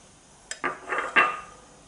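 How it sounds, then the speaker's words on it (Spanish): Egg is beaten into chicken breast in a bowl, heard as a few sharp clinks and scraping strokes of a utensil against the bowl, close and fairly loud, with no talking. "Ahora ya lo terminamos de batir."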